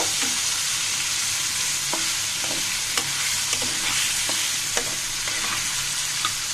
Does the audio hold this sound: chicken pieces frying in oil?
yes